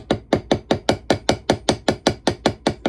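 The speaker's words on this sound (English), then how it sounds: "This is a 4-ounce hammer, and it has a little bit more of a abrupt focus point. So I'm going to kind of just put some hammer marks" Small 4-ounce hammer tapping texture marks into the pins of a moose stag knife handle, a steady run of about fifteen crisp, close metallic taps at an even quick rhythm, heard alone.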